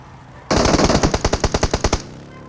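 Rapid automatic gunfire in the PUBG Mobile battle-royale shooter: a dense, loud burst of about fifteen quick shots lasting around a second and a half, close and sharp.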